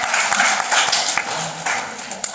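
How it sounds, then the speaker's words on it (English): An audience applauding at a reflection session of a teacher-training course in Bengaluru, a steady patter of claps from many hands across the room, bright and continuous with small surges. "Please give him a big hand."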